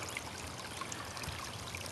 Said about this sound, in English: And stream comes around and goes all the way up